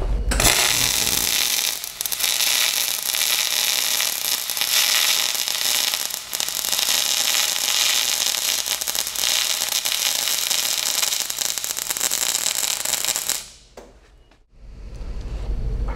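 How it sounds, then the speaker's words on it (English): A MIG welding arc in spray transfer with the voltage set too high gives a loud, continuous crackling hiss that runs for about thirteen seconds before it cuts off abruptly. "I have the machine cranked all the way up. So now I want to demonstrate what it'll look like when the voltage is too high."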